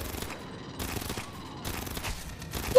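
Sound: turret gunfire in the video game Aliens: Fireteam Elite

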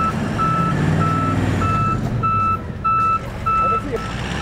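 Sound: tow truck reversing beeps while backing up

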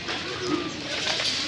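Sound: pigeons cooing at a temple

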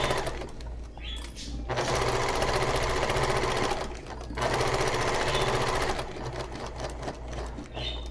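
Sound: sewing machine basting along a straight line

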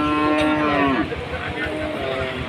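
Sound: Sahiwal breed calf mooing at cattle market

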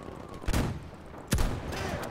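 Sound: gunfire in a video game

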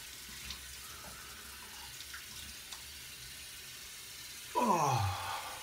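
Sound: water from a tap while rinsing face at sink

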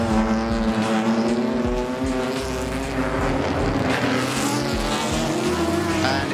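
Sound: Jaguar E-Type historic race cars racing at Goodwood

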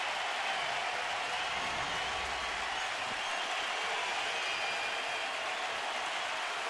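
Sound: baseball crowd roaring at Progressive Field

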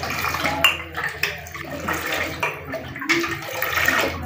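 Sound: water being poured into a jug for lemonade

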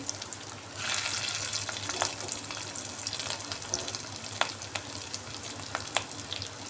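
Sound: frying rohu fish roe fritters in oil

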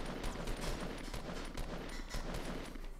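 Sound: gunfire in a video game

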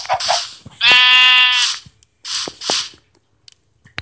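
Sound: sheep bleating in a video game

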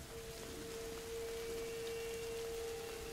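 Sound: rain in the video game A Plague Tale: Innocence

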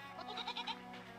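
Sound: goat bleating in the video game REKA

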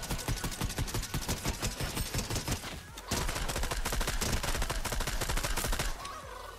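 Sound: gunfire shooting the llama in Fortnite video game

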